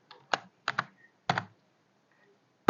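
Several short bursts of typing on a computer keyboard while writing HTML code, a few quick clicks in uneven clusters, fairly close, with no talking.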